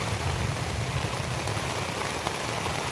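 Rain falls steadily during a morning thunderstorm at a campsite, a dense even hiss of drops on surfaces with no thunder and no voices, constant and close throughout.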